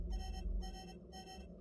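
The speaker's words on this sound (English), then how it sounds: "There, just reset the alarm." Alarm beeping in repeated bursts over a low background hum during a system break in a space exploration game, about three evenly spaced tones at moderate level, with no talk.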